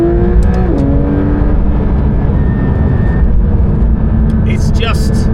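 A Porsche 992 GT3 RS engine with a 9,000 RPM redline revs hard from inside the cabin, a loud sustained wail rising and shifting in pitch over a heavy low drone, with a voice talking over it.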